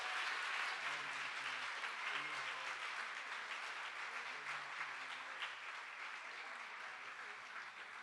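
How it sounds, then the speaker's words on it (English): An audience at a school awards show applauds an award winner, with sustained, even clapping from a crowd that slowly tapers off toward the end. "let's give her a round of applause"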